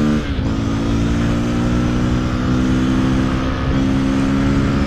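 A motorcycle engine is held at high revs in third gear for a street wheelie, a loud, close, continuous buzzing roar with steady pitch and only slight dips.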